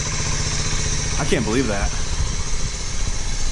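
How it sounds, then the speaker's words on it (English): A Honda Z50 mini bike with a pea shooter exhaust idles nearby in a steady, even putter, while someone speaks briefly over the running engine. "this baby's purring, dude. Little pea shooter exhaust, just purring."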